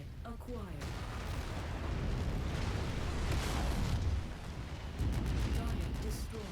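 An AC-20 autocannon in the MechWarrior 5: Mercenaries video game fires heavy shells in repeated booming bursts, with loud, rumbling blasts layered over continuous battle noise while a player talks.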